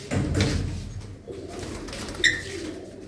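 Blue-footed pigeons of fine breeds coo inside a coop, low throaty coos that are strongest at first and then softer, with a faint chirp later, close by and without talk.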